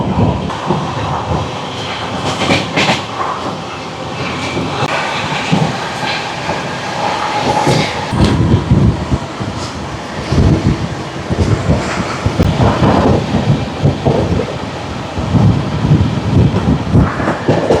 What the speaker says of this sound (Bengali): আমাদের ট্রেন এখন একটা ব্রিজ ক্রস করছে।